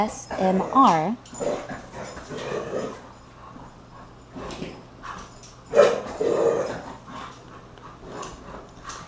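A dog with the zoomies whimpers and pants in the background, rising in a few short bursts beneath a person talking steadily in the foreground.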